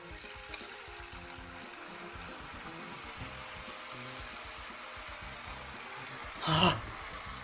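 Water flowing from an opened cascade fills the scene with a steady, soft rushing wash, continuing throughout with a brief louder splash near the end; no one speaks.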